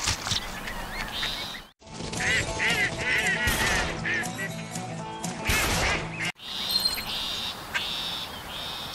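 Duck calls and quacking ducks in the Duck Dynasty video game, a dense burst of honking, quacking calls that swells loud and repeats in rapid clusters over the game's ambient background.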